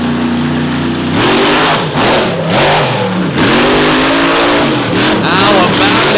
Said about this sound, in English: A lot of heat built up in that engine right now.